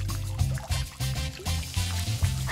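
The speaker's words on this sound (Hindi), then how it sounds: "ट्यूब पौधे को पानी देगी और चलो पानी चालू करें।" Water switched on and running through a tube inside a red-eared turtle terrarium tank at home, a steady pouring trickle with gentle splashing that continues close by for a few seconds.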